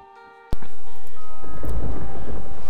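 A sudden, loud thunderclap from a storm in the video game Superbrothers: Swords and Sworcery EP, crashing in after a quiet start and rumbling on under a rushing wash of rain.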